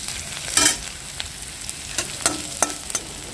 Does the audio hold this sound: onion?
yes